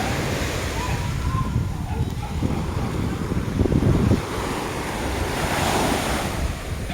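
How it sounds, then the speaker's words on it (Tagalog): Ocean waves at Vales Beach Resort in Toril, Davao, a continuous close wash of surf with wind buffeting the microphone, swelling slightly midway and again near the end. "I love looking at this water, the waves."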